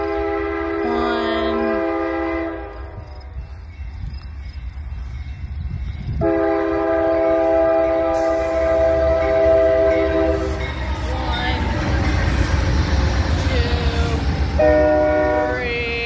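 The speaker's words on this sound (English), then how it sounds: "We got an Amtrak train." An Amtrak Southwest Chief passenger train rumbles past at La Plata, Missouri, with a loud, sustained multi-tone horn blasting twice, the rolling rail noise continuing between and after the blasts.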